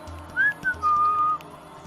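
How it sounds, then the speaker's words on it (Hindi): A person whistling at night: a few short, clear tones that rise and then hold a longer steady note, fairly close against a quiet low hum. "और जब तुम सीटी बजाते हो तो तुम उन्हें अपनी जगह बता देते हो"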